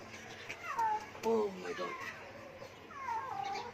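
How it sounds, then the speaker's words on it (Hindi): A cat stuck high up in a tree yowls in drawn-out, wavering cries outdoors, several calls rising and falling, with a person's exclamation briefly heard among them. "वो बिल्ली ऊपर ही फंसी हुई है, जो उसने घोंसले तबाह किए। शोर मचा रही है ऊपर।"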